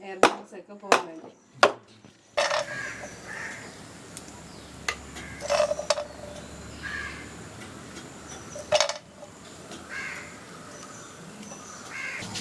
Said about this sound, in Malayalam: ചെറുതായിട്ടൊന്ന് ടാപ്പ് ചെയ്തെടുക്കണം, എയർ ബബിൾസ് ഒക്കെ പോകാൻ വേണ്ടി